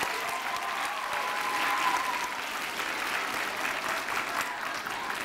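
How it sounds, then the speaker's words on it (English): Audience applauding at a mock trial event, a dense, steady wash of clapping that holds at an even level throughout, with faint voices briefly audible underneath. "let's give ourselves a big round of applause"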